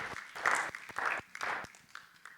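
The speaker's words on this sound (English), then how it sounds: "we give a huge round of applause" Applause from an audience at an educators' professional development day, heard as bursts of clapping that swell and fade in uneven waves, fairly quiet and somewhat distant, with no talk over it.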